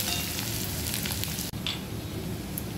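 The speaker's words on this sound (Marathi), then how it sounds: "आता चांगलं असं आपण ना हे गुलाबी रंगावरती कांदा परतून घेऊया" Chopped onion sizzles steadily in hot oil while being sautéed to pink for a tempering for raw-mango pitla, a close, even crackle with no talking.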